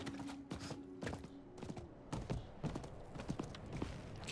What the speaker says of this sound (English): We'll hop on our horse here.